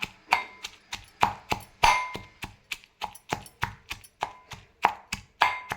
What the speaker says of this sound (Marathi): कुटताना आवाज येऊ नये म्हणून आपण असं खाली रुमाल घेऊया.